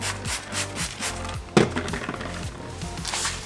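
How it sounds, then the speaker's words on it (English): A towel rubs over a Tesla Model 3 Performance front bumper with cleaning solution, repeated close swiping strokes with one sharper knock midway. "So use the cleaning solution and clean towel"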